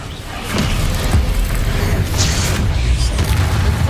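Loud, rumbling spell blasts from Confringo and Bombarda cast in Hogwarts Legacy, a continuous booming roar with bursts and crackles layered over each other, close and heavy throughout.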